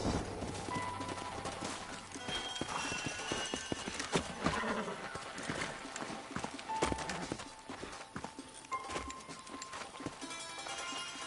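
Horses in the video game Red Dead Redemption clip-clop steadily on hard ground with occasional snorts and whinnies, a dense busy mix of hooves and movement throughout.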